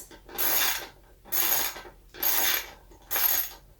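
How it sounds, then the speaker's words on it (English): Rapid bursts of ratchet clicking from a socket wrench tightening a bolt, four even bursts about a second apart, close and alone with no talk. "When it makes that ratchety sound, it's not moving."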